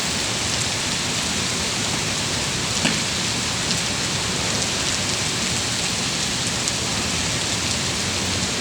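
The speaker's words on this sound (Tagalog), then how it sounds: "Sa ulap, lakas ang bagsak ng ulan." Heavy rain pours down steadily at SM Megamall as water gushes into a hallway, a dense, unbroken roar of droplets, with no voices and no letup.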